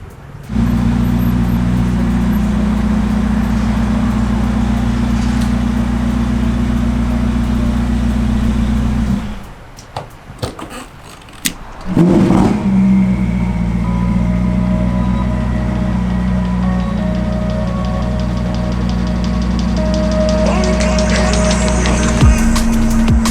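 Modified Ferrari SF90 hybrid coupe engine running loud and close with a deep steady drone, broken by a brief drop near the middle, then resuming with rising revs toward the end.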